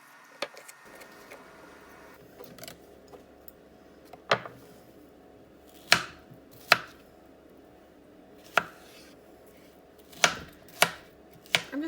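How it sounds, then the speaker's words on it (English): A knife slices through peeled peaches in a series of crisp, sharp knocks, about nine spaced irregularly against a quiet, nearly still background. "I'm just gonna slice these up."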